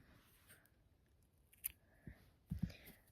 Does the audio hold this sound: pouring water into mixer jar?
no